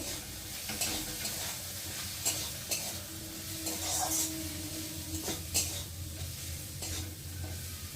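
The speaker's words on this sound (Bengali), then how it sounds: "আর দেবো হলুদের গুঁড়ো, আর দেবো লঙ্কার গুঁড়ো, দিয়ে একটু ভালো করে নেড়ে নেব" Maggi noodles being stirred in a pan with turmeric and chilli powder, a soft steady sizzle with repeated scraping and clinking strokes of a utensil against the pan, fairly quiet and close.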